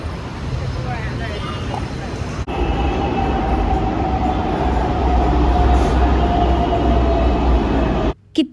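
A metro train rumbles along with a loud, continuous rolling roar and hum, rising after a sudden shift early on, with people's voices mixed into the noise before it cuts off.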